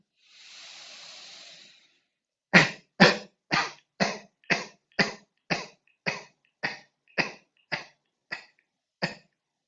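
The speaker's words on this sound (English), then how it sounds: "Coughing out," A breathy exhale, then a steady series of about twelve sharp coughs evenly spaced, close and alone, as a breathing exercise in a healing class.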